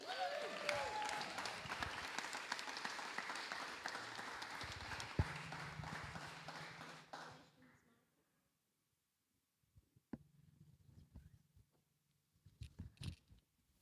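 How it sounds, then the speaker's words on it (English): A crowd applauds the winner at a state open lead climbing competition: brisk, sustained clapping for about seven seconds fades to silence, then a few faint claps and handling noises follow. "Big round of applause."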